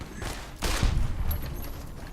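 Gunfire from the video game Fallout: New Vegas, a burst of shots giving a loud broadband crack followed by a rumbling tail that lasts about a second and a half, with no voice over it.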